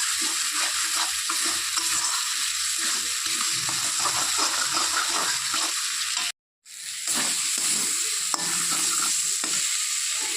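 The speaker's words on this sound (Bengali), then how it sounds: "মশলা যত বেশি টাইম ধরে মজানো যাবে এভাবে কষিয়ে নেওয়া যাবে তত তরকারির টেস্টটা বেশি হবে" Spice paste for a fish curry fries in oil while being stirred in a pan, a dense continuous sizzle with scraping strokes, briefly cut to silence for a moment before the frying resumes.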